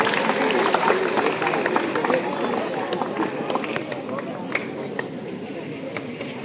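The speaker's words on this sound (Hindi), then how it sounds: "जोरदार तालियों से एक बार स्वागत करेंगे सभी" An audience claps to welcome a guest at an Independence Day event at a government model Sanskrit senior secondary school. The clapping is a steady, dense wash of applause with scattered sharper claps, fading slightly toward the end.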